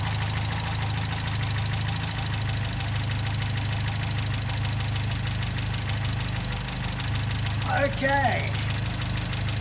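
An MGA MK2 engine idles steadily during a carburettor balance check, a constant low rumble throughout, with a brief spoken word near the end.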